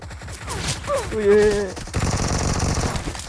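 Shotgun gunfire in PUBG Mobile, bursts of close, loud shots amid game sounds, with someone speaking excitedly over the action.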